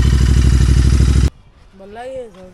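A Royal Enfield Continental GT650 parallel-twin cafe racer thumps loudly and rhythmically up close, then cuts off abruptly, followed by a person speaking.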